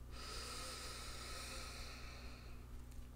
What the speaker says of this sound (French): Respire.